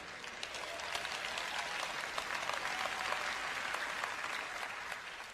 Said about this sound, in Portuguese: Eu tenho uma senhora aqui aplaudindo, aplauda mais alto, por favor.